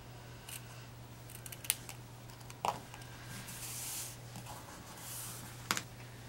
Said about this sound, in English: I'm going to make my banner or ribbon shape by just cutting in the middle and then cutting one side to the middle